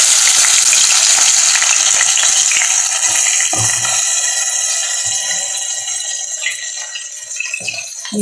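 Chettinad fish fry sizzling loudly in a pan of oil as the pieces are turned, a close, hissing crackle that gradually softens, with occasional utensil clinks.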